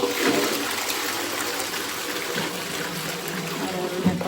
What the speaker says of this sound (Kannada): ಈಗ ನೋಡಿ ನಾನು ಫ್ಲಶ್ ಮಾಡ್ತಾ ಇದ್ದೀನಿ